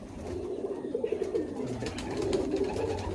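An Abluk pigeon in a loft near Baruipur at night gives a soft, repeated rolling coo, close and fairly quiet against a steady low background hum.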